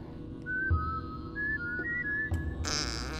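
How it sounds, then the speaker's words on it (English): A melodic whistle tune in Oddworld: New 'n' Tasty, several short rising and falling notes, fairly loud over a steady low background rumble, ending with a brief bright noise burst. "See if I can hear this whistle again."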